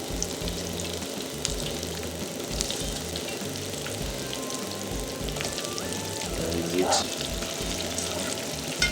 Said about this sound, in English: after you introduce your bread ball into your oil, you fry them for about 8 to 10 minutes